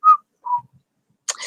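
A storyteller's voice imitates whistling with a few short, clear whistled notes separated by pauses, close and fairly loud, followed by a brief breathy sound.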